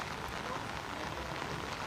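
Heavy monsoon rain pours across Jaipur city, where streets are jammed with traffic. It makes a dense, steady wash of noise with no breaks, moderately loud and continuous throughout.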